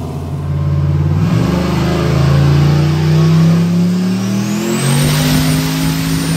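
A turbocharged 4.8L LS V8 in a Crown Victoria roars on a dyno, the engine note climbing steadily through a long full-boost pull, loud and close, then dropping sharply at the end.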